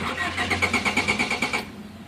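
A Honda Accord with flashing D4 lights cranks without starting: a fast, even chugging of the starter turning the engine over for about a second and a half, close and loud, then it stops.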